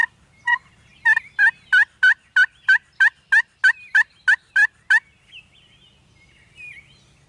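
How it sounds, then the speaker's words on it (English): Wild turkeys on a farm ridge: a fast run of about a dozen evenly spaced, loud, sharp calls sounding close by, with a few softer isolated calls before and after and quiet stillness between. "we got a hen clucking at us right over this ridge"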